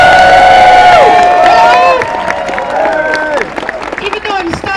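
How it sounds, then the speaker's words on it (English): A live comedy-gig audience claps and cheers loudly for a comedian, with whoops and crowd noise that thin out toward the end. "I want you to clap and welcome and cheer every performer who comes up here"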